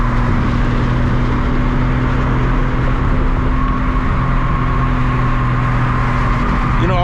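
A 750HP MKIV Toyota Supra on a test drive, with a loud, steady engine drone and road roar heard from inside the car, holding an even pitch throughout.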